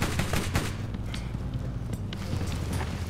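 Rapid gunfire from the Borderlands video game crackles in dense, overlapping bursts, with sharp transient cracks over a constant low rumble of combat.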